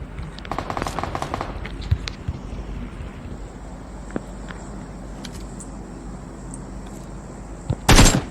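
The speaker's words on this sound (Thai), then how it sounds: "ยิงระยะไกลหน่อยครับตรงนี้" Gunfire in the mobile battle royale PUBG Mobile, with rapid automatic bursts early on, scattered single shots and a loud final burst, all over a steady low vehicle-like rumble.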